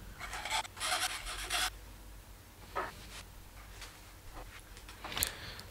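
Small mother-of-pearl inlay pieces are shaped for an ebony-fitted baritone guitar. Quiet, close rasping and filing strokes come in short bursts, with a denser run at the start and then scattered scrapes and pauses.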